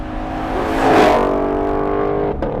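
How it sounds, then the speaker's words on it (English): A supercharged V8 in a Ford Mustang GT500 revs loud and close, its exhaust swelling to a peak and then holding a steady, bassy drone that ends in a quick blip. "That is a proper Detroit V8 muscle car rumble."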